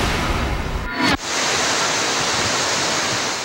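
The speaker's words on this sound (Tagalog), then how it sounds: "Malakas na buhos ng ulan na nagdulot ng abot baywang na baha." Heavy rain pouring during Typhoon Lando in Pampanga, Philippines, a dense continuous hiss with a brief dip near the start, fairly loud and without voices.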